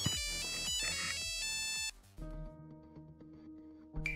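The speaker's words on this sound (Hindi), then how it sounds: "नवा नंबर फोन आ रहा यार" A mobile phone ringtone plays loud and close as a bright, repeating electronic melody, then cuts off abruptly midway, leaving a quieter tonal background until a short burst returns at the end.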